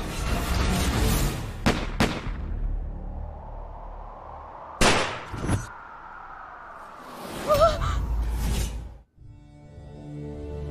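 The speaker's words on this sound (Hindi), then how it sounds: "सही में गोली चला दी" A few sharp, loud gunshot-like bangs ring out in a TV drama scene, separated by pauses, with a lingering resonant tail after each and a dramatic musical backdrop.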